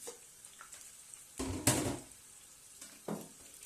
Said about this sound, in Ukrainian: шкварки смажаться